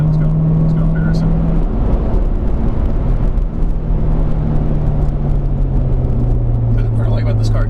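A 2017 Corvette Grand Sport, making 465 foot-pounds of torque, accelerating down a hill: a loud, close engine rumble whose pitch climbs and shifts as it pulls, with someone talking over it.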